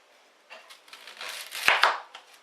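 A knife slices onions on a board in short, uneven crisp cuts, close and fairly quiet, rising into a slightly louder cluster of chops near the end.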